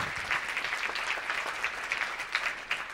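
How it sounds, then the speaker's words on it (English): Audience at a media award event applauds a journalist being honored, a steady wash of many hands clapping at moderate distance, fairly soft and continuous for a few seconds without speech. "Give him a round of applause"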